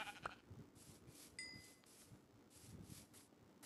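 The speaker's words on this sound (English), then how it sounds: "Kill the sheep." Sheep bleats in the Minecraft video game, a short bleat near the start followed by faint ambient noise and a brief tone, quiet overall with no talk.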